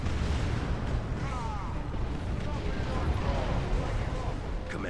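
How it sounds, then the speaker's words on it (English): Artillery barrage in a war video game, heard as a dense, continuous roar of low rumbling booms and explosions that never lets up, with faint whistling streaks drifting over the top. "Barrage incoming!"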